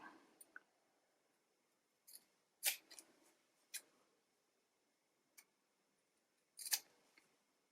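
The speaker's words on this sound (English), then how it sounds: "So we're simply going to trim the corners next." Scissors snip the corners and excess batting from a sewn quilted mug rug, a few short crisp cuts spaced apart against a quiet room, close and fairly soft.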